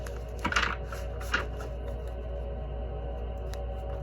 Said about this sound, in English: shuffling the cards can be loud, guys. You might want to mute for a minute.